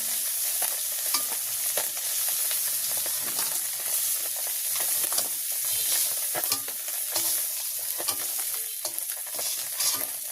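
Crab fries in a pan in a Bangladeshi village kitchen, a steady sizzle with dense, rapid scraping and clatter from stirring throughout.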